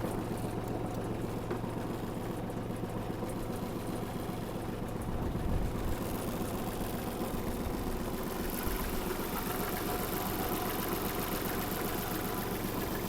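The small diesel engine of a Kubota GL-200 mini tractor idles steadily nearby, a continuous low rumble with mechanical rattle and a slight change in tone partway through.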